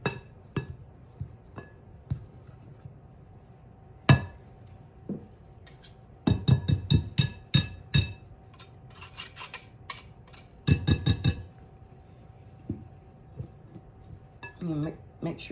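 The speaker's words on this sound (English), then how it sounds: "And make sure you mix it up really good." Mixing flour, Crisco shortening and cold butter for biscuits in a bowl, heard as clinks and scraping of a utensil against the bowl in irregular bursts, with some faint background noise.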